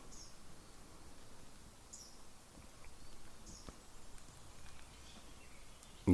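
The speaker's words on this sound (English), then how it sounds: "It's like, the breeze in the trees. All the birds." Soft outdoor ambience at a lake: a steady airy wash of breeze through trees with scattered faint bird chirps, quiet and distant, with no talking.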